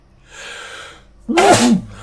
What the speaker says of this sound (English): I need to sneeze really badly.